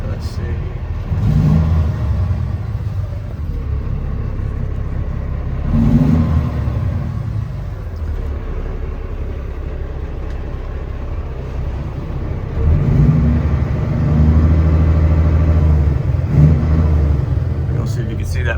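Engine of a 2010 Kenworth W900 triaxle heavy-haul truck with its DPF deleted, a deep low rumble revved up several times in swells, with someone talking over it.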